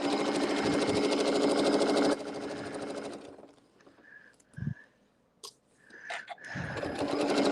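Sewing machine stitching along a seam while piecing a winter fan blade quilt block, a loud, steady rapid whir that stops abruptly, followed by a few short bursts of stitching and quiet handling sounds.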